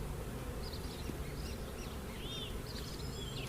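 Honey bees buzz steadily around an open hive during a colony split, a dense continuous hum close by with a few faint bird chirps in the background.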